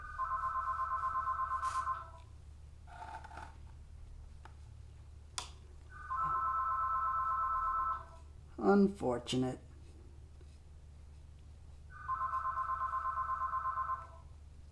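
A phone rings in three evenly spaced bursts of trilling electronic tone, each about two seconds long, faint and steady, with a brief spoken word and a few clicks between the rings.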